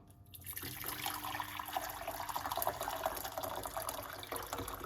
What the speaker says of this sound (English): the first thing what we are going to do is put some hot water